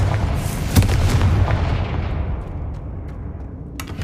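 A Confringo spell goes off in Hogwarts Legacy with one sharp, heavy blast early on. Its booming rumble rolls out and slowly fades, followed by a few faint clicks.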